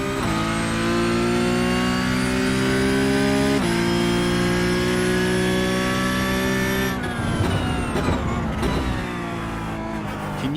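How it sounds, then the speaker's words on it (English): A Porsche Cup race car in iRacing at Twin Ring Motegi roars loudly and steadily through upshifts, then drops off with brief tyre noise near the end, no voices. "I'm unsure if the engine is still drowning me out."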